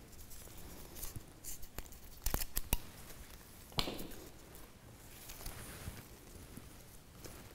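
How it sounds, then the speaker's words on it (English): Scissors snipping the end of a paper streamer, a few sharp quiet cuts clustered in the middle with faint rustling around them, close and alone. "So get your scissors and just snip."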